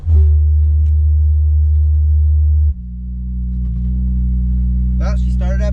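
A tuned Honda Civic Si engine cranks and catches with a loud, steady low drone, then drops to a smoother idle hum after a few seconds, with a brief higher whine or chirp near the end.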